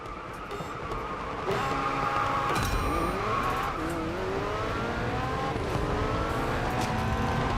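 A Lamborghini Revuelto in the racing video game Racing Master, a loud continuous engine roar rising and falling through gear shifts, with rapid revving sweeps and occasional tire noise.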